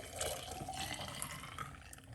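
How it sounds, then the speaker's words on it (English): Beetroot juice pours into a container at home, a soft continuous liquid stream with faint splashing, quiet and close, with no talk over it. "So we're gonna pour the beetroot."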